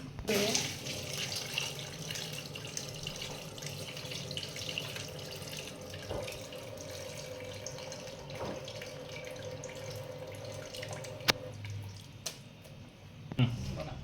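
Hot water runs steadily into a pot of crab curry for several seconds, a continuous splashing stream with a few clinks and knocks near the end.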